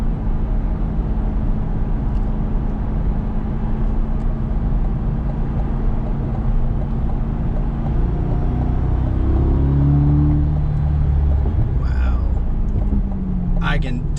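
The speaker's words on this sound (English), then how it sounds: "definitely sounds more exotic of a V8 than the standard like LS burble, burble, burble" A 2021 Corvette V8 drones steadily from inside while driving, a low rumbling burble that rises in pitch and revs toward the end, with a voice speaking over it.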